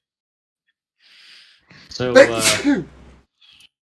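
A single loud, close sneeze bursts out amid a tabletop role-playing session, with a brief murmur of voices before it and faint sounds after.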